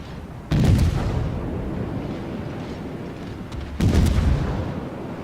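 Naval guns fire in the World of Warships video game, with two heavy booms about three seconds apart, each a sudden loud broadband blast that decays slowly into a steady low rumble of battle noise.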